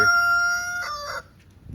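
A backyard homestead chicken crows, then gives a couple of short clucks, loud and close in a quiet setting.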